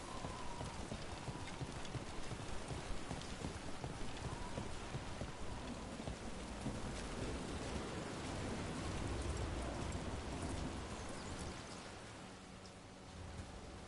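Steady rain pours over an outdoor scene in the video game Dragon Age: The Veilguard, a dense, unbroken hiss that stays loud from start to finish with a slight swell near the middle, no distinct thunderclap standing out.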